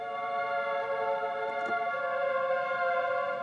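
A human voice processed through a stack of built-in effects on an MPC Key 61 keyboard comes out as a sustained, choir-like Mellotron-style chord that holds steady and fairly soft throughout, with a faint breathy blip partway through.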